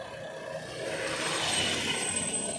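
A tractor engine drones, loud and steady, as it strains to haul a fully loaded trolley up a ramp. The roar swells slightly midway and continues without a break.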